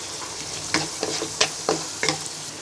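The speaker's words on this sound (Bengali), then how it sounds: "পেঁয়াজটাকে হালকা ভেজে নিব এবার এক চা চামচ পরিমাণ রসুন বাটা দিয়ে দিব এবার এক টেবিল চামচ পরিমাণ টমেটো পেস্ট দিয়ে দিব" Onion frying in a pan with garlic paste and tomato paste for Bengali-style pasta, a continuous close sizzle broken by several distinct stirring scrapes, alone without voices.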